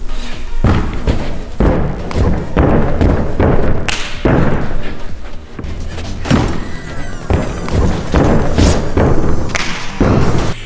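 Real-life parkour stunts recreating Tomb Raider: a series of loud, close thuds from hands and feet striking the ground in back handsprings, then a heavier landing after a backflip, all over a noisy background.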